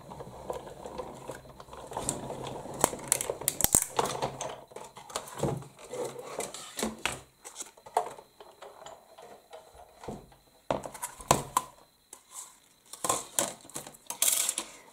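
Scissors snip a flower motif out of thin green parchment paper, with irregular bursts of crisp close cutting clicks and paper rustles, separated by brief quiet gaps.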